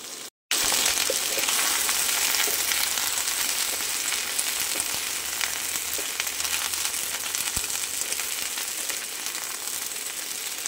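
Cauliflower and other ingredients fry together in a pan, a loud continuous sizzle close by with occasional scraping and clicks of stirring after a brief cut at the start.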